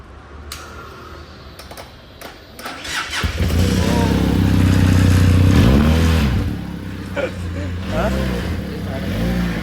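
An old KTM Duke sports motorcycle engine catches after a few clicks, then runs loud and close with rising revs and a gradual swell before settling back to a rough idle, with people talking over it.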